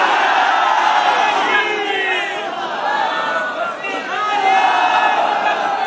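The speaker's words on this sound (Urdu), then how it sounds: "ابھی پھر نعرے لگواؤں گا، میں خود لگواؤں گا" Large rally crowd at a religious conference in Qissa Khwani Bazaar, Peshawar, raising loud massed chants and shouts, a continuous dense roar of many voices filling the whole stretch with swelling waves.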